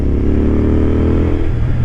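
A Royal Enfield GT 650 motorcycle engine runs close by after a valve adjustment, giving a loud, steady low rumble with an even, throbbing pulse that holds for the whole stretch.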